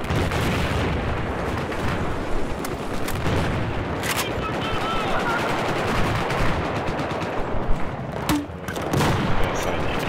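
Sustained machine gun fire from the video game Battlefield 4, a dense, continuous rattle of automatic gunfire with scattered louder bursts, loud throughout with faint game voice lines mixed in.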